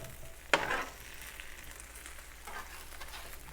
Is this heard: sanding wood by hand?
no